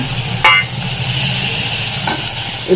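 Tomatoes and spices frying in a pan over low heat give a steady close sizzle, broken by a few brief scrapes and clinks as a spoon stirs them.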